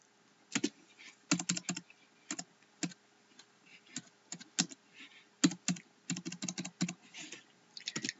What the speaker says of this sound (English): I can go and start typing the numbers